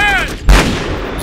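Gunfire in the PC military shooter Conflict: Global Storm, a single heavy booming shot that rings out loudly after a short lead-in, with a lingering rumbling tail and no speech.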